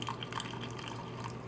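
Freshly brewed Turkish coffee poured into a cup, a soft steady trickling and light dripping of liquid, close and faint with no talk.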